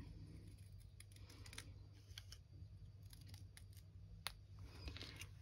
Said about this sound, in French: je viens couper en diagonale comme ceci